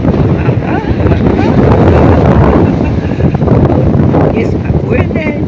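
Strong wind and heavy waves on a Black Sea beach at Sukko in a November storm, heard as loud, continuous wind buffeting the microphone over crashing, rushing surf, with no pause in the roar.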